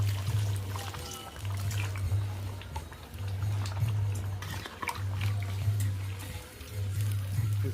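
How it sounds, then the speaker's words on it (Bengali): Water pours into a pot of chicken kosha with potatoes cooking on a village clay stove, a continuous splashing gush over a pulsing low hum from the fire. "আলু ঢেলে দিয়েছি, তারপরে জল ঢালছি।"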